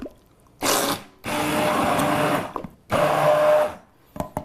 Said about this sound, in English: I want you to take an emulsion blender if you have one.